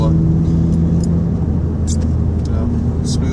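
Steady low engine drone and road rumble from a Toyota Corolla with a manual transmission being driven, loud and continuous throughout with no break.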